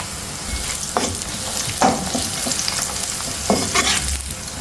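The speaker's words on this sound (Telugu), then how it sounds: "మీరు క్యాష్యూ నట్ కూడా ఇప్పుడు యాడ్ చేసుకుంటే మనం కొంచెం క్యాష్యూ నట్ ఫ్రై అయ్యే వరకు మనం దీన్ని కలుపుకుందాం" Cashew nuts with turmeric and onions sizzling steadily in a pan, stirred by hand with scraping clicks of the spoon through the frying, a close and continuous crackle with no voices.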